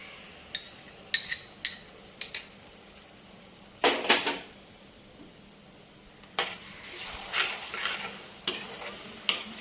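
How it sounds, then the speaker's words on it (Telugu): Cooked tamarind pulp hits a hot pan in a Telugu kitchen while making a pickle, with a soft sizzle and scattered spoon-against-pan scrapes and stirring clatters, close by and no talking. "ఇప్పుడు ఇందులో చింతపండు గుజ్జు వేసుకుందాం"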